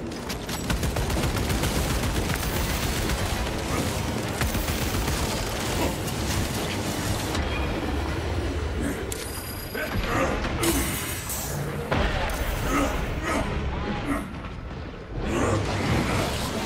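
Dense, continuous gunfire and a shock grenade blast in the Warhammer 40k game Space Marine 2, loud and relentless with rattling mechanical clatter and bursts of explosive noise throughout.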